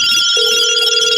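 A single short telephone ring for a podcast call-in, loud and clear with a sustained electronic tone and no talking.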